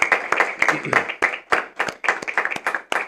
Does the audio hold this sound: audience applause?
yes